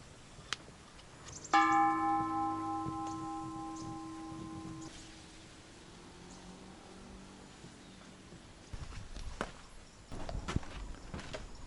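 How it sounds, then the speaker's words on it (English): A single strike of a bell at a Chinese village in Thailand rings out with a long, shimmering tonal decay, followed by quiet outdoor ambience and a few faint footsteps and knocks. "Let's give the bell a ring."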